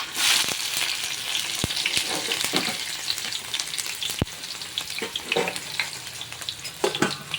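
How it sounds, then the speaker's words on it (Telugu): Onions frying in hot oil for a raw mango fish curry make a loud, steady crackling sizzle, broken by a few sharp clicks and stirring scrapes, with no talk. "ఇప్పుడు ఆయిల్ నాకు హీట్ ఎక్కింది, సో నేను ఇప్పుడు ఆనియన్స్ వేస్తున్నాను."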